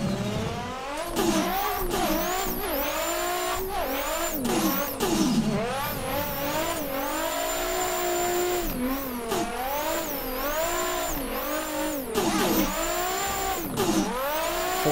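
Nissan S15 drift car at a drifting event, its engine revving hard and continuously through a full run, with rising and falling pitch sweeps as it shifts and holds throttle, loud and close throughout.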